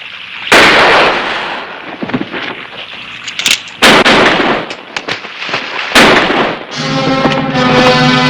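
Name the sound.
gunshots in a western TV show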